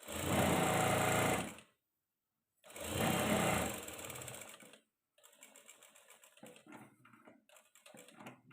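A sewing machine stitches a salwar top collar in two loud continuous bursts separated by a short pause, followed by softer intermittent clicking and handling noises.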